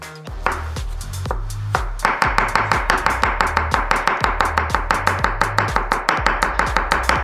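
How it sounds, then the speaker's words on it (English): Kitchen knife finely chopping a pickle on a board, a fast steady run of crisp, evenly spaced knife strikes, close and loud, after a few slower opening cuts. "We take a pickle and chop it very,"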